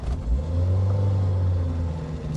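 A Peugeot 309 GTI engine holds a loud, steady rumbling rev close by for a couple of seconds with no talking.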